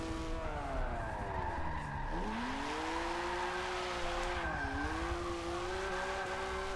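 Tires skid in Forza Motorsport 7 as the brakes lock up, giving a sustained tire squeal that wavers and bends in pitch over a steady engine drone at moderate level.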